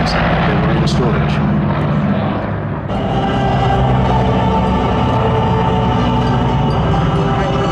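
A loud, droning propeller aircraft engine roars steadily overhead, its tone shifting slightly as it passes, with a muffled voice underneath.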